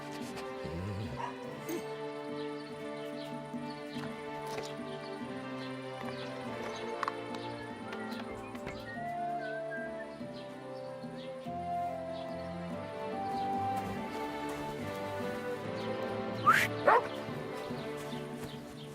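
In Kingdom Come: Deliverance II, a dog barks and whimpers in short bursts, with horse hooves clopping and background sound running steadily underneath.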